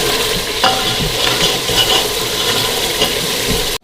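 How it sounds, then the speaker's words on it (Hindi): Mutton and potatoes stir-fried in a pot for aloo gosht, a steady close sizzle with repeated scraping stirs of a spoon against the pot throughout, no talking. "हमारे गोश्त भुनेगा तो हमारे आलू भी साथ ही भुन जाएंगे"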